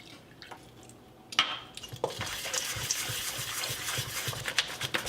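Water poured into batter in a mixing bowl, a quiet pause and then a gushing, splashing pour with drips and clinks, continuing steadily and close.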